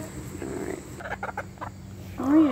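Backyard roosters and chickens, heard as a few close clucking and crowing calls, with a short burst of croaky bird noise at the end.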